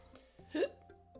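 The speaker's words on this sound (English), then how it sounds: "Oh, and I got hiccups." A single sharp hiccup from a person who has just gulped a lot of water. It is brief and close, the only clear sound in an otherwise quiet moment.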